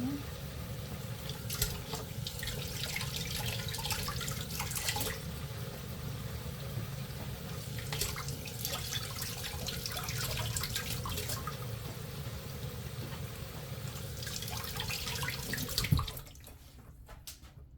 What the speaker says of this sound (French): Je rince toujours